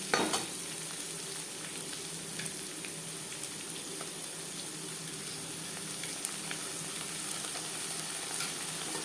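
Four or five garlic cloves fry in hot oil with chopped onion in a pan, giving a steady, even sizzle with occasional faint crackles, close and continuous, with no voices.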